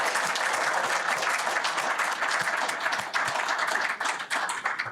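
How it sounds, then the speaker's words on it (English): A lecture audience bursts into steady, crisp applause for a Pulitzer-winning reporter, many hands clapping densely and close for several seconds without talk. "he deserves a round of applause for that"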